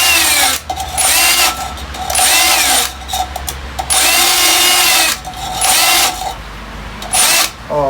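A small grinder-like power tool whirs in a vegetable field in several loud, close bursts of high-pitched spinning, each lasting one to two seconds and separated by short pauses, with no talking.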